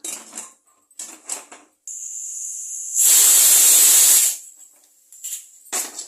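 A pressure cooker cooking potatoes lets out a loud, steady hissing whistle for over a second, framed by soft clinks and scraping kitchen noises before and after.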